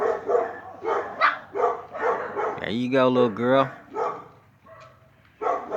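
Miniature Pinscher x Deer Head Chihuahua toy-breed pups give several short, high yips and barks in an uneven rhythm, close by, mixed with someone talking to them throughout.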